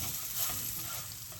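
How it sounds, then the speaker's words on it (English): Garlic sauteing in rendered salt pork fat gives off a soft, continuous sizzle, faint and steady over a short stretch. "Talon's gonna add some garlic. We'll saute that."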